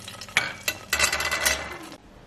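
Garlic and other mole ingredients fry in a pan, with a few sharp utensil scrapes and clacks over a continuous close sizzle that drops off near the end.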